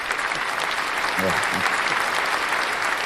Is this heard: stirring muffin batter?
no